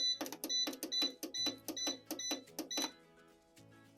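A bread machine beeps rapidly over and over as its bake program, number 8, is selected, a string of close, bright electronic beeps in a quick rhythm before it falls quiet.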